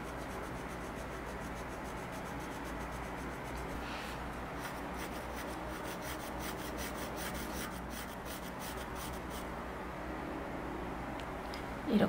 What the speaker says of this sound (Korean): 종이 표면에 연필심 끝부분을 떼지 않고 이어서 계속해서 지그재그로 왔다 갔다